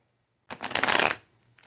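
A single brisk riffle of a tarot deck being shuffled and cut, a close, loud papery flutter lasting under a second that stops abruptly, followed by quiet.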